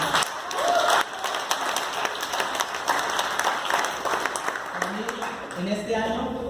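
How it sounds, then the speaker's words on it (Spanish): A church congregation applauds to welcome a woman up front, with a steady patter of clapping across the room and voices talking over it toward the end. "te voy a pedir que recibamos con un fuerte aplauso a mi hermana Sandra"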